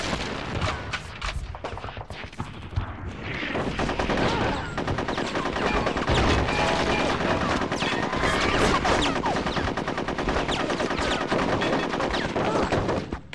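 Heavy, continuous gunfire and a booming grenade-like blast rattle through a chaotic battle in the cartoon shooter Conker's Bad Fur Day, loud and sustained for many seconds with little talk.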